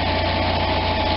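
An Onan RV generator engine runs steadily right after a restart, a loud, even mechanical drone with a constant low hum and no voices.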